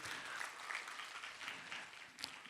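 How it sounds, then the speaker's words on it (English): An audience clapping with handheld clappers, a faint steady patter of rapid clacks and claps continuing throughout with one sharper crack near the end. "Clap as loud as you can."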